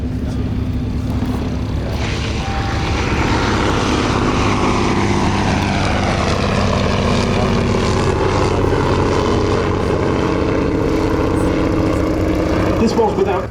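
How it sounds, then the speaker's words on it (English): A vintage propeller biplane at an airshow performs a wheeler landing, its engine droning loudly and steadily close by, the pitch sliding as it passes, with a commentator talking over it. "a superbly executed wheeler landing there, keeping the weight on the undercarriage till the very last minute"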